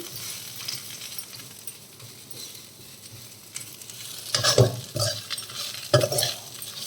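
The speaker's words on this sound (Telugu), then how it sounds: "ఒక టూ మినిట్స్ ఇలా ఫ్రై చేసుకుందాం మొత్తం కలిసేలాగా" Sliced onions and okra frying over high heat in a pan for a curry: a steady sizzle runs underneath, and louder scraping stirs and clinks of a spatula against the pan come near the end.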